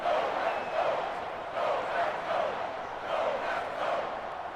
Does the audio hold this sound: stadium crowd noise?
yes